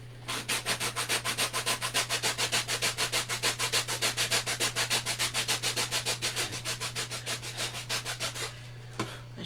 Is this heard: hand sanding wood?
yes